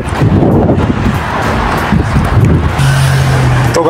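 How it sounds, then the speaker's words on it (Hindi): Strong wind buffets the microphone outside a mall in Kuwait, a loud, continuous roaring rush with passing traffic noise beneath it. "पेड़ों को देखो कितनी तेज़ हवा चल रही है"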